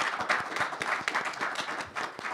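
A conference audience applauds the speakers, dense indoor clapping from many hands at a steady level throughout, fairly close.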